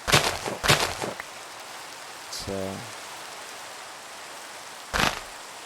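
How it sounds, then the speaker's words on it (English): Rain falling in Minecraft, a steady hiss of rainfall through the scene, with a few brief louder bursts and a short spoken phrase near the start. "Can I sleep through this rain, or is it like really only like true thunderstorms?"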